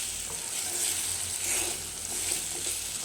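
Chicken pieces tossed with salt, chili powder and oil are stirred in a pan, giving a steady close sizzle with soft scraping and mixing sounds throughout, no talking.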